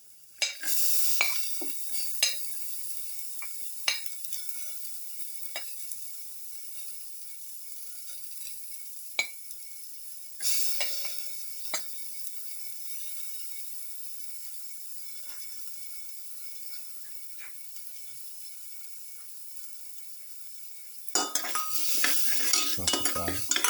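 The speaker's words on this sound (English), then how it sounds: "Saute garlic." Garlic sautéing with curry leaves in a pan for a pepper beef dish, with a soft sizzle beneath scattered sharp clinks and scrapes of a utensil stirring against the pan, louder clattering bursts near the start, middle and end, no talk.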